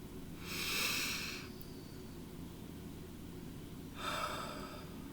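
Two slow, deep breaths taken close to the microphone, each a soft airy inhale or exhale lasting about a second, with quiet gaps around them.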